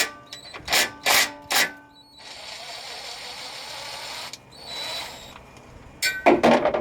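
A ratchet loosens transmission pan bolts under a 2013 GMC Sierra 1500: three sharp ratcheting bursts, then a sustained whirring stretch and a further burst, ending in a rapid flurry of clicks, all close and without talk.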